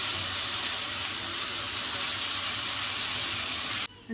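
A spice paste with coriander, cumin and chilli powder fries in a pan for a malai chicken curry. A loud, constant, hissing sizzle carries on evenly and then cuts off abruptly near the end.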